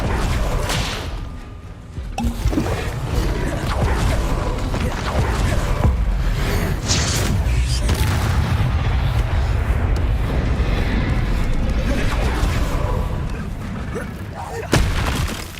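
Fiery spell blasts from Confringo being cast in Hogwarts Legacy, a loud sustained roar of booms and crackling bursts that fills the scene continuously, with a sharp hit near the end.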